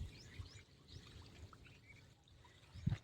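Irrigation water flows along an earthen field channel on a farm, a faint, steady trickle with scattered bird chirps around it and one brief louder splash near the end.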